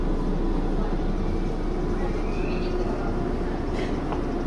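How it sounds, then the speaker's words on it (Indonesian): An old local train of a few cars running in Japan, heard as a steady loud rumbling roar of wheels and motor, continuous and close, with no clear talk. "Ini tuh kalau di Jepang ini disebutnya kereta jadul."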